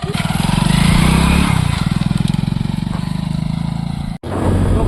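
A motorcycle engine runs steadily on a campsite trip, with a throbbing exhaust pulse that rises as it pulls away. Loud and close, it cuts out briefly near the end, then resumes.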